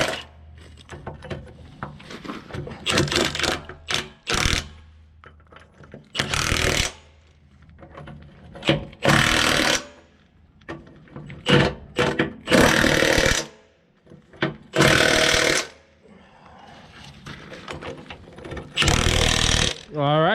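Bolts being driven onto the new cutting edge of a Komatsu D51 PX22 dozer blade: repeated loud bursts from an impact wrench separated by pauses, with someone talking in between.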